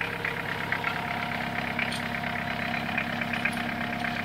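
A 1995 Mitsubishi Pajero with a 4M40 diesel engine runs steadily at idle while still cold, suspected of a head gasket fault. Its low, even rumble with a faint knocking texture continues throughout, close and alone.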